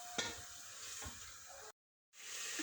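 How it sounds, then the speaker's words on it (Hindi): Yogurt for chana dal mutton gosht fries in a pot with a soft, quiet sizzle and a few scraping stirs. The sound cuts to silence briefly before the sizzle returns. "ये दही डाल के इसको 3-4 मिनट फिर ज़रा भून के फिर इसमें दाल डालेंगे"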